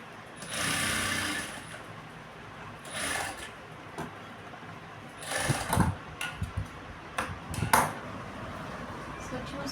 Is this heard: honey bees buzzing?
no